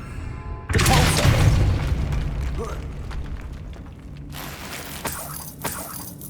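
A Depulso spell impact in Hogwarts Legacy: a sudden heavy boom with crashing, shattering debris that rumbles and fades, followed by a second softer burst and scattered clatters.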